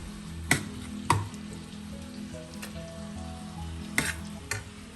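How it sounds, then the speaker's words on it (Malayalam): Chicken sautés in a pan with a steady low sizzle, broken by a few sharp clacks of stirring, close and fairly quiet with no talking. "ചിക്കൻ നമുക്ക് ഇടയ്ക്കിടയ്ക്ക് വഴറ്റി കൊടുത്തുകൊണ്ടേയിരിക്കണം."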